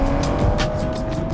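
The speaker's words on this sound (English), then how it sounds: "the inline-6 has a silky tone with a bit of a bark around back" A Toyota GR Supra's inline-6 engine and exhaust run steadily in a continuous loud, smooth drone with a slight edge to it and no talking.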